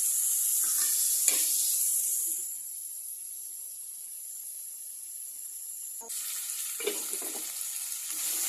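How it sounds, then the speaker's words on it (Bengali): Eggs frying in a pan of cooked-down spiced masala, a soft steady sizzle with a few brief stirring clatters at the start and near the end. "মশলা কষানো শেষ। এখন এতে ডিমগুলো দিয়ে দিব।"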